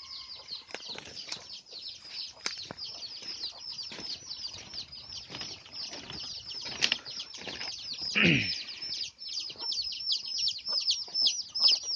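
Dense, continuous high peeping of chicks with scattered hen clucks and a burst of wing flapping, fairly close and steady throughout.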